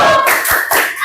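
Children in an Islamic religious class clap a quick rhythmic chant together, a few sharp close hand claps over a brief burst of bright group sound.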